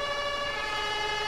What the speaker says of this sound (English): Just gonna turn off the sirens if they're not needed.